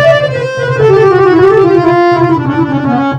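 A narnar harmonium with both reed lines male plays a sustained, reedy melody that glides slowly downward over a steady drone, loud, close and continuous.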